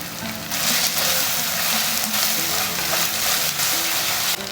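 Tomato, ginger and garlic fry in a pan with a dense, constant close sizzle that swells right after the start and holds steady, much like heavy rain, with no talking.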